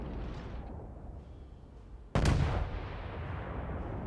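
A Tirpitz battleship fires an artillery salvo in the naval combat game World of Warships: one sudden, heavy, booming blast that breaks over a quieter ambient rumble, then a rolling roar that lingers for a couple of seconds.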